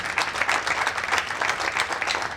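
An audience applauds after a stage play about the Kakori train action, with a dense, steady burst of many hands clapping throughout a short stretch.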